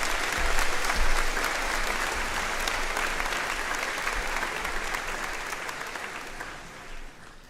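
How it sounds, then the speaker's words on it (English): An audience at a high school graduation ceremony applauds steadily, the dense clapping holding for several seconds before gradually tapering off. "One last round of applause for a great job on their academics."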